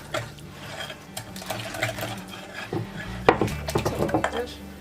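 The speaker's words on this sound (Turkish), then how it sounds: "Tekrar çırpıyorum." Yogurt and egg yolk whisked with ladled warm spinach soup in a bowl: rapid, uneven clinking and scraping strokes, growing louder and busier toward the end, close by.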